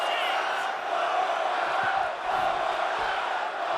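Wrestling arena crowd in WWE 2K26, a steady loud wash of distant cheering and roaring that swells and dips slightly throughout, with no clear speech on top.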